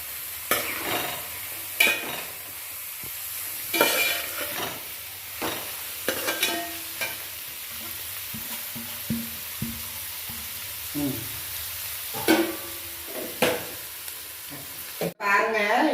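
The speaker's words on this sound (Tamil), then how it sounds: "2 நிமிஷம் வதங்கினா போதும்." Vegetables for veg fried rice are stirred in a hot pan, with a soft sizzle and repeated scraping strokes of the spatula at irregular intervals, close and moderately quiet.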